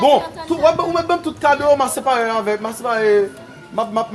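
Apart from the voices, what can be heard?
No everyday noise stands out behind the speech.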